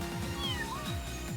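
Cat meowing in the video game VRChat, a short rising meow over a soft, repetitive background music loop, fairly quiet and close.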